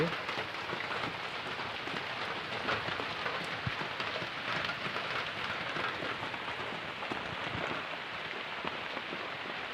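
Steady rain patters densely on a surface, a continuous hiss of drops at moderate volume with no pauses.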